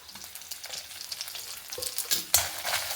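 Pepper, urad dal, chana dal and cumin are dry-roasted in a pan, with a light rustling sizzle and scraping stirs that grow louder and sharper toward the end.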